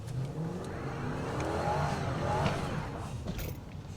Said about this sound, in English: just how the car can do a burnout